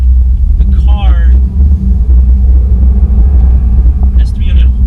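2017 Subaru WRX STi boxer engine giving a heavy, constant low rumble, loud and close, while someone speaks briefly near the start and again near the end.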